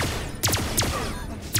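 Enemy gunfire in the sci-fi game Pulsar: Lost Colony arena fight: several sharp, separate shots cracking out at irregular intervals over a steady background hum, with no talking.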